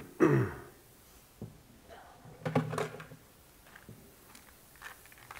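A loud throat clearing at the start, then smaller coughs and a second throat clearing midway, with faint shuffling and handling noises in a quiet church room.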